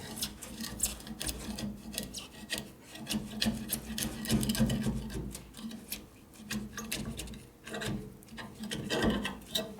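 Repeated rasping scrapes of a gasket scraper against metal, steady strokes close by, rough and continuous with no talking.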